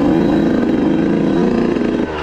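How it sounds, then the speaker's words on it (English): A 2018 Yamaha YZ125 two-stroke dirt bike idling close up while running rich, its engine giving a loud, steady, gargling burble for a couple of seconds. "you guys will probably notice a little bit of a gargling sound, almost like this bike is like has the choke on."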